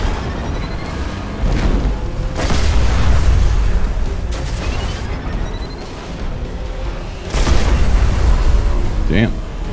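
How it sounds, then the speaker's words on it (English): A Siva tank blows up in Destiny: Rise of Iron. Two heavy, rumbling booms come about five seconds apart, each rolling out into a low roar over busy game combat noise. "The Siva tank got destroyed by this."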